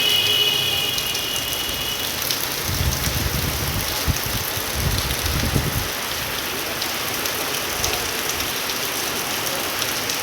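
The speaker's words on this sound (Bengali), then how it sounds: "এইদিকে আবার আমি দেখাচ্ছি যে বৃষ্টি হচ্ছে।" Steady rain pours down around a village kitchen during a rainy-day cooking session, a dense even hiss throughout with a brief low rumble midway, no voices.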